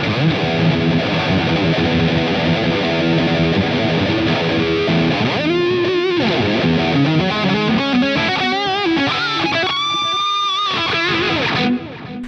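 A Hofner Shorty travel electric guitar with an open humbucker pickup plays through heavy distortion, loud and continuous, moving from sustained chords into faster single-note lines and bends.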